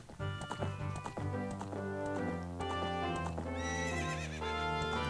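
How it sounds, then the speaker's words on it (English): Epona, the horse in a Zelda video game, neighs with a bright rising whinny over steady clip-clop hoofbeats, with a second whinny near the end, game music and effects sounding underneath. "It's like, oh, heck yeah, stole a horse."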